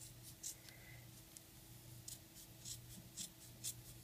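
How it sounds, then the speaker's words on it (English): Scissors slowly cut down one side of a plastic drinking straw, giving faint, soft, irregular snips and scrapes close by in a quiet room with a low hum. "I'm going to pop my scissors in and I'm going to cut down one side."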